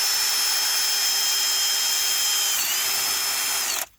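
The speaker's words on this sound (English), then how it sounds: "when you're drilling the hole here, you'll have to drill the hole at an angle" A power drill whines steadily at high speed boring an angled hole in a rigid PVC gate post, its pitch wavering slightly before it cuts off abruptly at the end.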